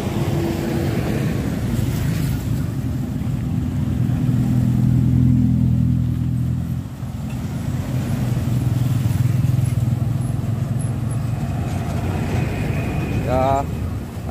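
A truck engine drones steadily up close while climbing a steep uphill road, straining with a brief drop in power midway before roaring on again.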